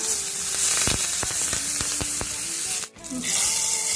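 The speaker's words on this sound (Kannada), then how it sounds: "ಫ್ರೈ ಮಾಡ್ಕೊಳ್ಳಿ ಚೆನ್ನಾಗಿ ಒಂದು ಮೆಣಸಿನ್ಕಾಯಿ ನಾಲ್ಕು ಕರಿಬೇವಿನ ಸೊಪ್ಪು ಸ್ವಲ್ಪ" Green chili and curry leaves fry for a tempering, giving a loud, continuous sizzle with sharp crackling pops and a brief dip before the hiss surges back.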